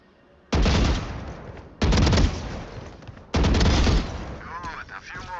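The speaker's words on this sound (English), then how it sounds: "move to face each bot then stop and shoot while standing still" Gunfire in the video game Valorant while shooting at practice bots: three loud, close bursts of rapid automatic fire, each lasting about a second and separated by short pauses, followed by a faint voice.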